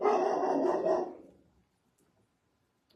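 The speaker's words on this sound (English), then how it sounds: "Sorry about the dog." Indoor dog barking close to the microphone in a short burst of about a second, then quickly fading to near silence.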